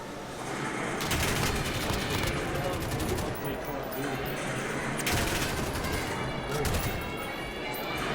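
Gunfire rattles in a two-versus-two gunfight round of Call of Duty at a tournament: dense, loud automatic bursts and overlapping shots fill the whole stretch, with a commentator's voice running underneath.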